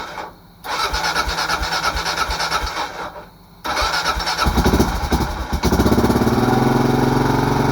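A Kawasaki KLR 650 motorcycle, left unstarted for a month and a half, cranks twice with a rapid whirring starter, then fires on the second attempt and settles into a loud, steady idle up close.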